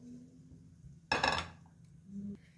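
A kadai (wok) set down on a kitchen stove after fish has been boiled, making a single short metallic clank, with quiet kitchen background around it.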